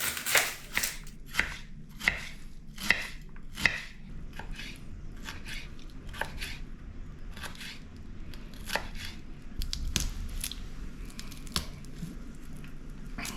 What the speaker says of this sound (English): now we got to cut up the onion.